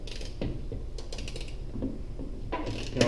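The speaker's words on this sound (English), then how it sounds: "With your ratchet here." A hand ratchet clicks in short, quick bursts, driving screws into the unthreaded plastic of an LED taillight assembly, the rapid pawl ticks close and moderately loud with brief pauses between strokes.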